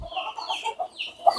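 Black Australorp hens cluck in a series of short, close calls, with a sharper squawk near the end, at a poultry yard in Andijan.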